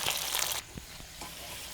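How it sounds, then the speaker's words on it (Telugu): Chilies, chana and urad dal, curry leaves and cashews frying in hot oil for a tempering: a brief loud sizzle that suddenly drops to a quieter crackle with a few soft stirring taps. "2 రెబ్బల కరివేపాకు కాస్తంత జీడిపప్పు వేసి ఎర్రగా వేగనివ్వాలి"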